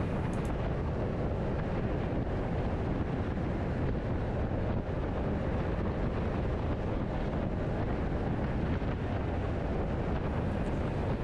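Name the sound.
riding a Honda SH350i scooter, wind noise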